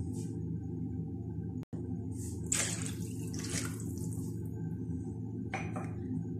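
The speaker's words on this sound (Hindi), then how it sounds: "तीन कप पानी की ऐड करने लगी हूँ।" Water pours into a pot of mutton and pea pulao on the stove, splashing in a few bursts over a steady low hum from the burner or kitchen, with no voices.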